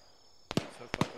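A flare is launched in a video game, heard as two quick sharp pops in succession, each a brief bright burst over a quiet background.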